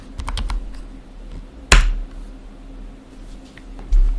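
Quick keystrokes clatter on a computer keyboard, a short flurry of taps then one sharp louder key strike, with a few more scattered presses after, close and clear in a quiet room.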